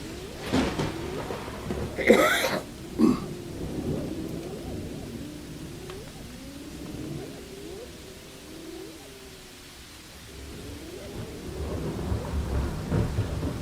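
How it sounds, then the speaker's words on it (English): Rumbling thunder rolls through steady rain, with a couple of sharper cracks early on and the low growl fading and returning. "5 minutes of calming, soothing thunder and rain"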